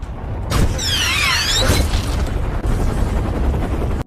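A bomb explodes at the top floor of a building in a film: a heavy booming blast with crackling, rushing debris that roars on for several seconds before stopping suddenly.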